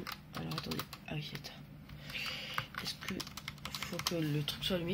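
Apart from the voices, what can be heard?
computer keyboard keys clicking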